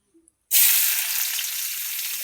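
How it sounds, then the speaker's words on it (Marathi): Oil poured into a hot pan on a home stove bursts into a loud sizzle after a brief quiet moment, then settles into a steady hiss that carries on alone. "आता तेल टाकत आहे, तुम्ही बघू शकता किती सिंपल आहे बघा."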